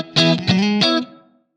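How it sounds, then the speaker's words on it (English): Electric guitar through a Blackstar St James amp plugin with plate reverb, playing three bright distorted chord stabs whose tails ring out and decay smoothly into silence over about half a second. "This is currently set to a plate reverb"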